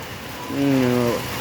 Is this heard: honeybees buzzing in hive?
no